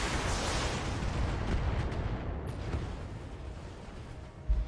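Mech weapon fire from a BattleTech game pounds a turret, a dense rumbling barrage of blasts and explosions that stays loud and continuous, ending with a sharper impact.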